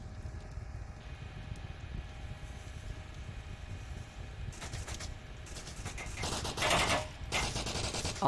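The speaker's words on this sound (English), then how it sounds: "Uncle Sam missing his shots onto Brisur" Gunfire from the VR shooter game Onward in a competitive match: steady background noise, then bursts of rapid automatic fire grow louder near the end, with no talk.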